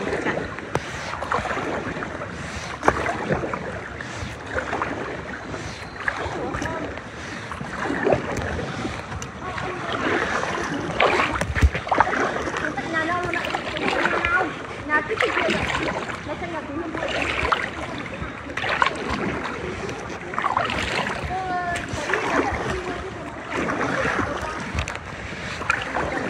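A rescue boat rowed by hand through floodwater in Yen Bai city during the September 2024 flood, with oar splashes and water slapping against the hull under steady nearby talking and wind.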